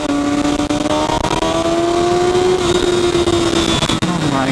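A Kawasaki Ninja motorcycle engine revs steadily while riding, with a loud, sustained rising engine tone that holds strong throughout and dips briefly near the end.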